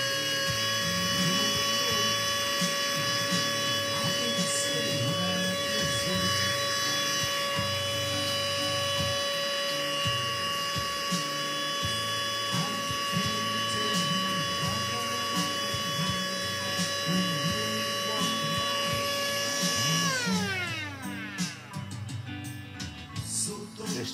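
A small handheld vacuum cleaner used to suck dust from inside a guitar hums with a steady high whine for a long stretch, then winds down as its pitch falls near the end.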